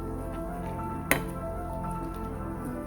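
Squirrel stew with mushrooms, green onions, cilantro and herbs gets stirred in a pot, giving soft wet squishing and a single sharp clink of utensil against the pot, close and quiet, with no talk.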